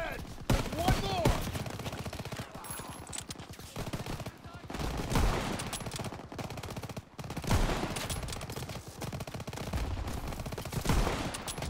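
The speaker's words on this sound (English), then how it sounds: "Everyone open fire." Call of Duty: WW2 gunfire in a push toward Paris, with rapid bursts of machine-gun and rifle shots crackling throughout at close to mid range, layered with battlefield noise and occasional shouted voices.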